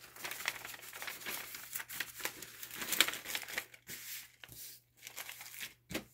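A paper invoice slides into a plastic shipping bag, giving soft, close crinkling and rustling that comes in irregular bursts over several seconds.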